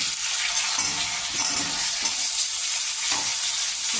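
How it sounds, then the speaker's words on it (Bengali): Potatoes go into onions that are already frying, and the pan gives a loud, steady, dense sizzle close by. The stirring shows up as faint scraping strokes underneath. Nobody speaks. "পেঁয়াজ লালচে লালচে হয়ে গেছে এবার আমি আলু দিয়ে দিলাম"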